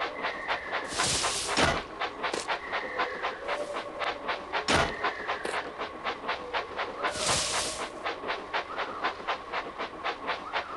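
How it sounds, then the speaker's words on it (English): A train engine running in the Thomas & Friends Minis video game gives off rhythmic chugging puffs, with several loud bursts of hissing steam and a tonal whistle-like hum in the background. The sound is steady and moderately loud, with no talking. "Clear the tracks. Engine coming."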